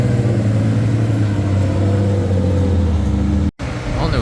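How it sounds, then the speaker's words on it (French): Asbo's MK5 drift car rolling onto the track at a Formula Drift event in Englishtown, engine humming steadily and loud nearby with a brief cut in the sound near the end, under faint background talk. "on a Monsieur Asbo qui s'en va avec sa MK5 sur la piste"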